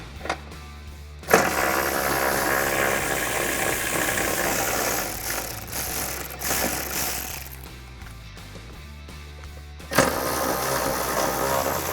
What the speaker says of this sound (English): let's switch over to our 12mm socket so we can remove these bolts